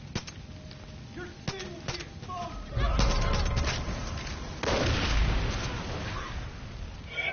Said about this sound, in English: gas barrel explosion